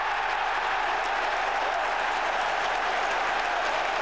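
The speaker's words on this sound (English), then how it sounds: "The applause for Jermaine Janus." Sustained applause from a full football crowd at St James's Park during Newcastle United v Everton, a dense, even roar of clapping that fills the stadium without pause, with faint commentary beneath.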